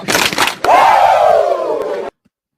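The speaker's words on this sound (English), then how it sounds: "I give you 2 claps and a Ric Flair" Two sharp hand claps, close and loud, followed at once by a long, loud wrestler-style 'woo' shout whose pitch falls slowly before it cuts off.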